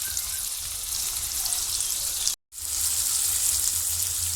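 Onion and tomato sautéing in a pan for a bottle gourd and chana dal stir-fry, a steady loud hiss and sizzle broken by one brief moment of silence, with no talk.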